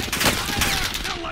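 Brief rattle of rapid gunfire in the Call of Duty Warzone video game, a dense close burst lasting about a second.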